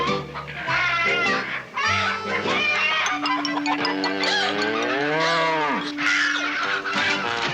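Cow mooing on a Western frontier farm amid chicken clucking and other livestock, a long drawn low call rising and falling, heard under a dense mix of noise and voices.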